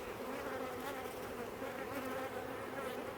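Honeybees hum in a crowded open hive being split, a dense, even buzz of many insects held close and steady throughout, with no voices.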